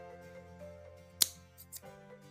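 A single sharp snip of scissors cutting lining fabric for a handbag, close and crisp over a faint steady hum, followed by a couple of softer rustles.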